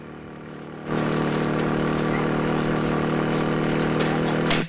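A motorcycle engine in a film scene starts up and runs steadily at a loud, even idle for several seconds, with no one talking.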